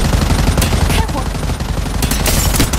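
Sustained automatic gunfire in Apex Legends, a loud, continuous rattling stream of closely spaced shots with no pause for nearly three seconds.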